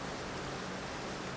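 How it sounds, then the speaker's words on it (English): Steady rain falls outside, heard as a soft, continuous broadband hiss with no breaks and no voices over it. "It's suddenly raining, so please pardon the noise."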